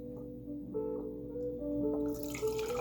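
Compost tea is poured into a container in a short, faint, steady trickle of liquid, with a gentle splash and gurgle rising toward the end.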